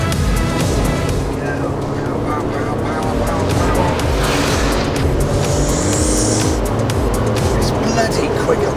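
Porsche 911 Turbo engine driven hard on a timed hot lap, a loud, continuous engine roar throughout with shifting pitch, while a voice talks over it.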